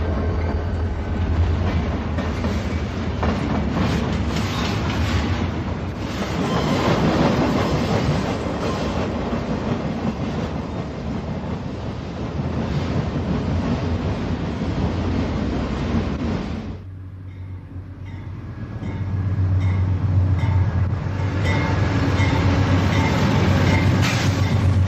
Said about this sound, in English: A southbound San Diegan pulls into the station for a brief stop to unload and pick up additional passengers.